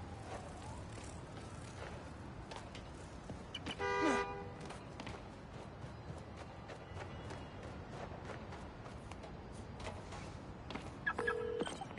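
A distant car horn, sounded by a key fob, gives a short toot amid outdoor background noise, followed later by another brief faint beep.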